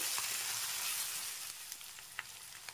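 Spice paste with tomato pieces fries in a pan, a steady hissing sizzle that fades a little partway through, broken by a few sharp ticks and spatula scrapes.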